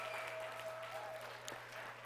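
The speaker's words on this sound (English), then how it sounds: "That round of applause goes right back to you for believing that." An audience at a Saturday business presentation applauds and cheers, with steady clapping mixed with crowd noise and a faint steady hum underneath.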